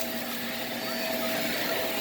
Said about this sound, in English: now we are vacuuming the hard floor